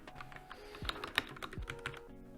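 Typing on a Redragon Dharma Pro K556 wireless gaming keyboard with linear quiet switches: a soft, steady run of muted keystrokes with a few sharper clacks, close and moderately quiet, with no voices.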